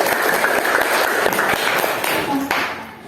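Students in a classroom clap together in a short, brisk burst of applause that fades toward the end.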